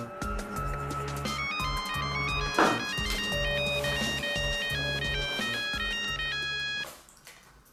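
A mobile phone ringtone plays a bright, repeating electronic melody over a steady beat, fairly close, then cuts off near the end.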